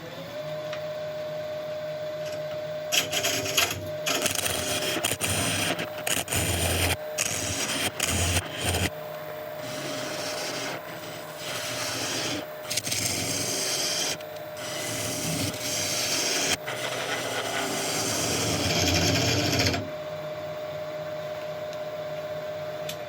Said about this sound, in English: So I'm going to slowly take away as much of this tenon as I can safely